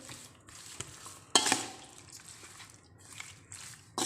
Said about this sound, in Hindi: अच्छी तरह से मिक्स कर देंगे।